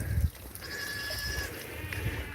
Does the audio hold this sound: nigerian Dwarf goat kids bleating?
yes